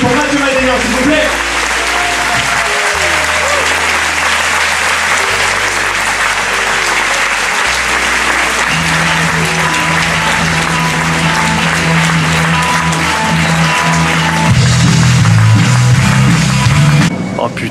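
A comedy-show crowd in Reims gives Mathieu Madenian a loud, sustained ovation, the thick close clapping running throughout over a steady deep musical bassline whose notes shift in pitch and swell near the end.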